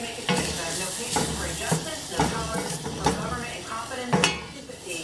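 Textured vegetable protein is sautéed without oil in a pan, with a soft sizzle under repeated scraping stirs and occasional sharp utensil clinks against the pan.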